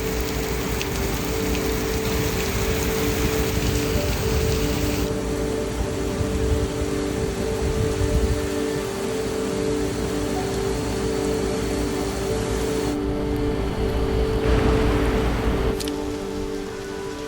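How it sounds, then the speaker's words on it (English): Heavy rainy-season downpour in Tulum, Mexico, as a dense, steady hiss of rain hammers surfaces nearby, loud and unbroken for the whole stretch, with a faint mechanical hum underneath and no voices. "the unpredictable rainy season weather in Tulum hit and it started pouring"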